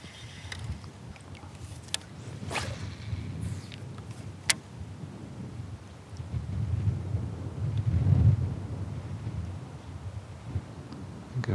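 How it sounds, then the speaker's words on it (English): Wind gusts across an open lake during a spring bass fishing trip, buffeting the microphone in rising and falling rushes with a few sharp knocks, loudest near the end, with no voices. "the wind is just blowing everywhere on this lake"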